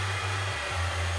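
A hair dryer blows steadily while drying acrylic paint, a continuous loud whirring hum with a slight dip in pitch partway through, heard close up and alone.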